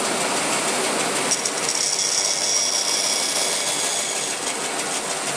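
A bandsaw cuts wood held against a mitre block, giving a steady, loud mechanical drone topped by a thin high whine that holds throughout, with no talking.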